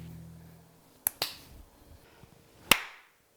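A few sharp, isolated hand claps or snaps in a home kitchen while making deviled eggs, two quick close cracks followed by a single louder one after a pause, with near silence around them.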